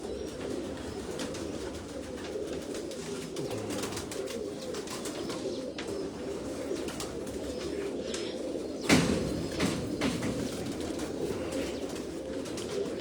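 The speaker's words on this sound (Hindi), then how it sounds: "लाल परी कबूतरों का ये भाइयों के लिए शो देता हूँ" Lal Pari pigeons on a rooftop coo in soft, repeated low calls against steady outdoor ambience, with a short burst of wing flapping partway through.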